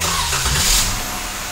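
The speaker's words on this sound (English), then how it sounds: "This will also trigger the remote starter to start the vehicle." A Jeep Wrangler engine turning over by remote starter, a short close crank that catches into a steady running rumble, alone without any voices.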